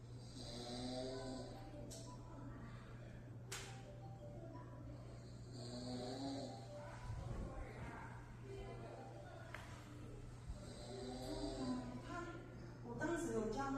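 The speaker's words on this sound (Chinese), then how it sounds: "那播放鼾声的音乐" Recorded snoring is played back faintly during a sleep snore-detection test, with slow, rough, rhythmic breaths under a steady low hum while people talk.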